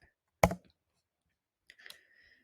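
A few computer keyboard keys are tapped while typing a terminal command, one loud click followed by a short, quieter cluster of keystrokes in a quiet room.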